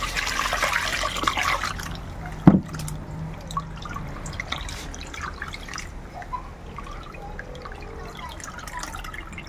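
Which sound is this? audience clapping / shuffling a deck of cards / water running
water running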